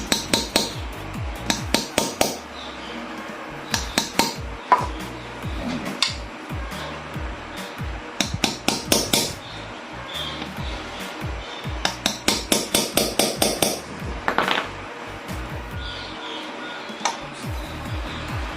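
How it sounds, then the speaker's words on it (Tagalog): Repeated sharp metal hammer strikes driving a bearing into a motorcycle crankcase, in quick bursts, ringing loudly and close, with short pauses between groups of blows. "kailangan mo ng martilyo. So pupukpukin natin para bumaon siya dun sa loob."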